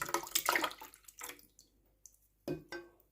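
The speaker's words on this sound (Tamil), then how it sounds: "இந்த தேங்காய் பாலை வந்து அப்படியே ஊற்றிக்கலாம்" Coconut milk is poured into a cooking pot that already holds water, making irregular splashing and gurgling bursts close by, with short pauses between pours.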